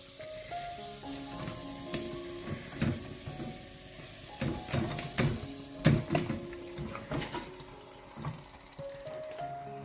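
Pork ribs and other meat sizzle and fry in roasted Goan masala, a soft crackling hiss with clattering stirring bursts scattered through the stretch, no talking.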